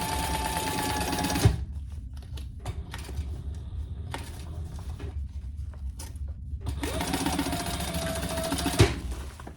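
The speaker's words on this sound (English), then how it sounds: "turn this over, and sew down each side." A sewing machine stitches down the sides of a waterproof canvas crossbody bag, running in loud, steady humming bursts with two short pauses between runs, close up.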